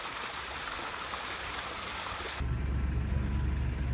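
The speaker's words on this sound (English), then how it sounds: "We have the waterfall all sealed up with foam. It's flowing, it's beautiful, it's wonderful." Steady broadband rush of water from a natural stone waterfall, sealed with foam, pouring into a backyard swimming pool, continuous and close, growing fuller and deeper partway through.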